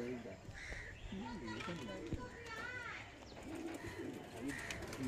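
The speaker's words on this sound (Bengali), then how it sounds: "বন্ধুরা দেখো এই যে ফ্লাই করছে দাদার পায়রা, 6টা পায়রা উড়িয়েছে।" Pigeons from a loft of black Madras birds coo and call close by while children and other voices chatter throughout, with no wingbeats clearly standing out.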